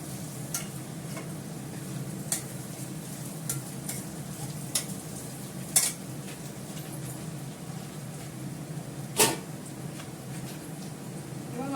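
Meat and potatoes frying in oil, a low continuous sizzle with scattered scraping stirs and two sharper clanks of a utensil against the pot.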